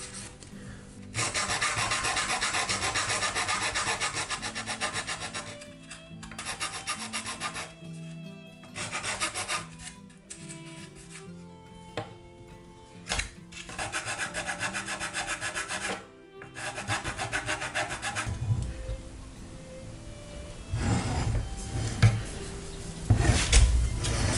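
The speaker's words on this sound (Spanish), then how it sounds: "Ahora voy a limar un poquito esto" Wooden parts of a Flying Dutchman ship model from an OcCre kit are filed by hand, loud close rasping strokes in rhythmic bursts with short pauses, followed by some bumping and handling noises toward the end.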